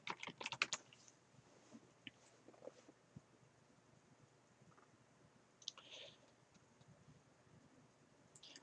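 Typing on a computer keyboard while entering list text in Word 2013, with a quick cluster of close, faint key clicks at the start and scattered softer taps after it, over a low hum.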